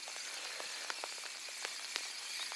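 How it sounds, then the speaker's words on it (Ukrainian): Steady heavy rain hisses faintly at a riverbank while fishing, with scattered individual drops ticking and tapping at irregular intervals. "ось і розпочався знову сильний дощ, треба десь ховатися"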